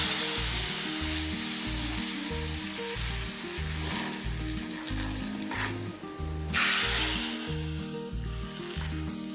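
Mustard seeds, a chopped dried red chili and curry leaves sizzle loudly in hot coconut oil for Kerala puli inji, giving a dense continuous crackle over a steady rhythmic music bed.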